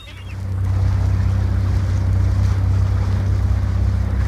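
A boat engine idles steadily during a test run at a dock, a loud continuous low throbbing hum with wind and water noise over it, no voices.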